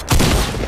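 Shotgun blast in Fortnite Battle Royale, fired from a rooftop: one loud, close, booming shot with a short ringing tail.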